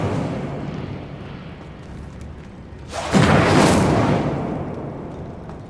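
An Incendio fire spell cast in Hogwarts Legacy flares up as a sudden loud roaring whoosh, rising out of a low ambient rumble and then slowly fading over a couple of seconds.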